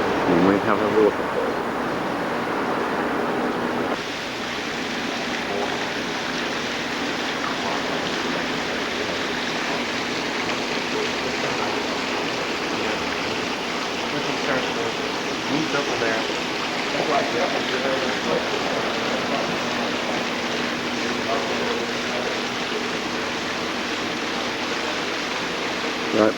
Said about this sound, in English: And we have a waterfall.